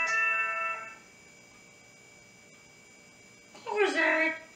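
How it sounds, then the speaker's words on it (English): A cell phone rings in a room, with a steady electronic tone at the start, then quiet, then a louder warbling burst of ringtone near the end. "That was my pain in the neck cell phone."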